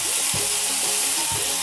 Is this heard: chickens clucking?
no